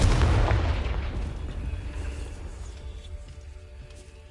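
A deep booming explosion from the Confringo fire spell in Hogwarts Legacy hits hard at once, then rumbles and decays steadily over a few seconds with no voice over it.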